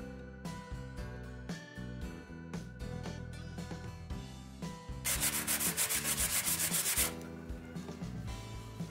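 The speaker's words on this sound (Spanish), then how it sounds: "Vamos a darle una lijada." Sanding hardened wood filler on melamine-coated particleboard by hand, rhythmic rasping rubbing strokes up close, growing louder and faster midway, then easing off, with no talk.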